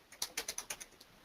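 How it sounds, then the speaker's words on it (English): A computer keyboard is typed on to enter text into a webinar chat box, giving about eight crisp, evenly spaced keystrokes at close range that trail off at the end. "I'm typing it in the chat box."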